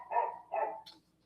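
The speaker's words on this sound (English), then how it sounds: "please go get those dogs. Stop barking." Dogs bark twice in quick succession, fairly close but at modest volume, followed by a short higher-pitched yip before quiet.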